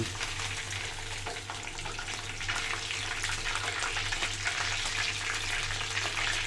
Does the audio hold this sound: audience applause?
no